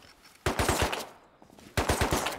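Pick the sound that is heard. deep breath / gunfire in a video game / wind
gunfire in a video game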